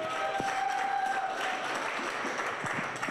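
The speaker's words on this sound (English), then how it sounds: "Give them a round of applause" Sustained applause from a comedy club audience in Medicine Hat, steady and dense throughout with a faint tonal hum running underneath early on.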